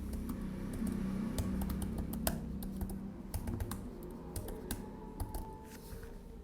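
A name is typed on a computer keyboard: a quick, close run of soft key clicks with uneven spacing and no talking.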